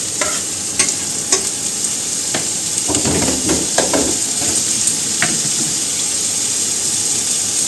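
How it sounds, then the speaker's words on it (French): Sliced onion and bacon lardons sauté together in a hot pan for a potato, camembert and bacon tart, a close, steady sizzle broken by repeated spatula scrapes and clacks against the pan. "Et on va faire revenir ça quelques minutes."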